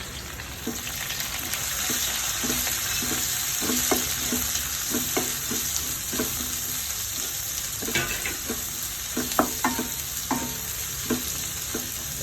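Thinly sliced onions fry in a pan for a sheema chakka (breadfruit) koottu curry, a steady close sizzle broken by repeated scraping and stirring strokes against the pan, no voices.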